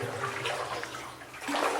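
Steady rushing of flowing water fills a mine tunnel, a continuous wash of sound with no voices.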